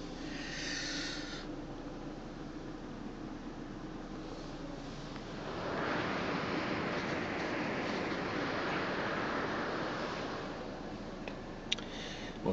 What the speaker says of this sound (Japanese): 海でね、撮ってるとちょっと波の音がね、非常に雑音になってね、聞きづらいもんですからね